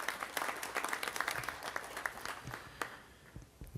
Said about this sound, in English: So give one more time a round of applause for David Lemieux and his team.